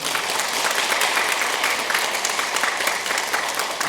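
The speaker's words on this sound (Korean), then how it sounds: "박수 한번 해요." A Korean church congregation clapping during a Sunday sermon, loud, close applause from a crowd, sustained and even for several seconds.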